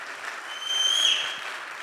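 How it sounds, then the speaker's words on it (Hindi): Applause in a hall for Dr Sanjeev Kumar: a moderate crowd claps steadily, swelling briefly in the middle, with a faint high whine of audio feedback ringing over it. "डॉक्टर संजीव कुमार सर के लिए जोरदार तालियां होनी चाहिए"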